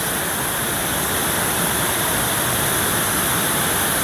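Curug Cikaracak waterfall roars continuously up close, a loud, dense, unbroken rush of falling water with no voices.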